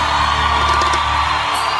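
A concert crowd whoops, yells and cheers loudly and continuously at a live show, a dense roar of many voices filling the space without pause.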